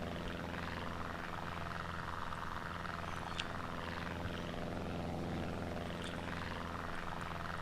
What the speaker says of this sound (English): They've definitely captured the sound of the Gypsy Major engine very, very nicely.